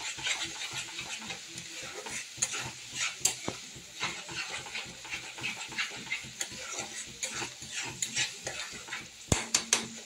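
A fish curry being stirred in a pan with salt and turmeric, repeated scraping strokes over a light sizzle, with sharp knocks of the utensil against the pan near the end.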